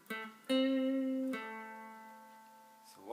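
An electric guitar plays a short lick on the minor pentatonic scale in first position, a few sustained picked notes ringing out clearly with a fading tail, alone and close.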